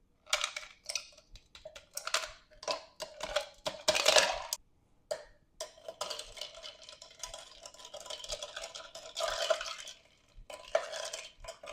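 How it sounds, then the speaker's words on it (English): Mistletoe holiday punch stirred with ice, a run of bright clinking, rattling ice cubes knocking against the glass in short irregular bursts, fairly close and quiet, with no talking. "I am going to stir it a little bit just to kind of make sure everything is well mixed"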